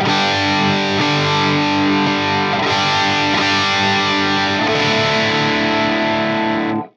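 Electric guitar played through a KSR Amps Eros Boost + EQ pedal into an already distorted amp, ringing chords with thick overdrive, loud and continuous throughout before cutting off at the end.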